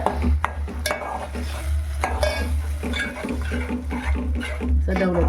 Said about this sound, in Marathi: टोमॅटो पेस्टला पण आपल्याला डवडून डवडून घ्यायचं आहे